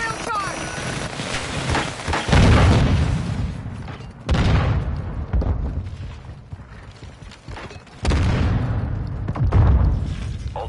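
A grill charge detonates in a shooter game, with several heavy booming blasts and mechanical clatter spread across the span, loud and close, while players talk over the action.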